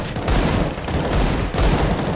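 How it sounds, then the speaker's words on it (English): Sustained M249 machine gun fire in CS:GO, rapid, loud and continuous bursts with a brief dip near the middle, no talking. "With the M249"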